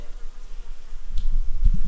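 A dense, steady buzz of many bees fills the space, close and constant, with a low droning hum throughout.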